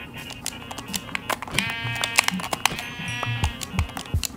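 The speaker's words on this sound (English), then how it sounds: "gonna go kill another sheep." Sheep bleating in the Minecraft video game, several short nasal bleats over clicky keyboard typing and game noise, fairly close and moderately loud.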